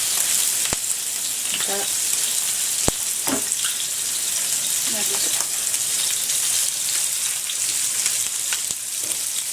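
Fresh mussels and seafood sizzle in a pan with white wine, a steady close hiss of frying with light stirring clatter throughout and a brief spoken word.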